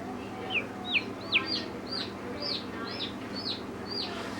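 High, thin peeping chirps from a newly hatched chick repeat at a steady pace, about two per second, close and clear over a low hum.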